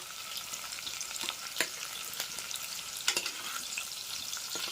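Green chilies frying in a hot pan of drumstick and tomato curry, a steady close sizzle with occasional sharper crackles and pops, no talking.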